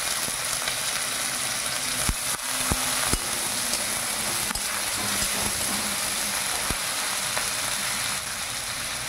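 Ginger, tomato and green chili sizzle and fry steadily in a pan, with a few sharp clinks of a utensil against the pan over a continuous hiss.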